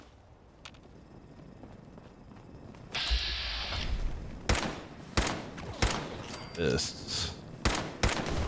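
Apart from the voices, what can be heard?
gunfire from the video game The Good King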